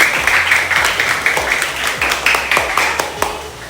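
Schoolchildren in a classroom clapping for classmates who sang: quick, fairly regular handclaps from a small group, moderately close, with voices talking over them throughout.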